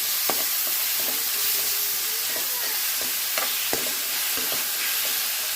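Chopped tomatoes sizzle steadily in a hot pan while being cooked down for semiya, with a constant frying hiss and occasional light stirring clicks from the spatula throughout.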